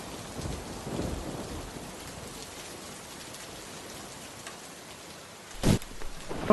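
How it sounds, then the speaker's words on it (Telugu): Steady rain hissing on surfaces with low rumbles of thunder, then a sharp close crack near the end. "ఆకాశంలో మెరుపు మెరిసింది ఎక్కువగా వాన పడుతుంది"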